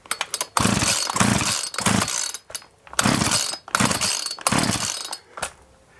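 A Mac 441 chainsaw with the choke closed is pulled over repeatedly, giving about six loud bursts of sputtering engine noise separated by brief pauses, close by and with no talking.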